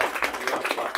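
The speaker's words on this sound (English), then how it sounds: "Can I have one more round of applause for" A small conference audience at a furry convention talk claps in a brief, close burst of rapid, uneven hand claps.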